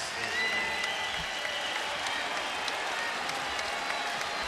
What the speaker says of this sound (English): they'll give a nice applause to their Denver team